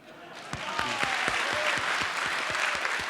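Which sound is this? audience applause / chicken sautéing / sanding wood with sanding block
audience applause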